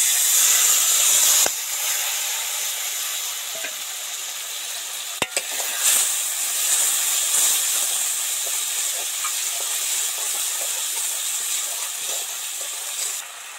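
Spice masala sizzling loudly in hot oil in a kadai over soft deep-fried tomatoes, a steady bright hiss with occasional stirring scrapes and clicks, close and continuous with no talking.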